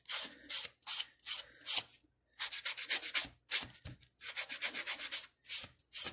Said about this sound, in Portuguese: Não vou tirar com a lixa grossa, vou tirar com essa lixa bloco aqui.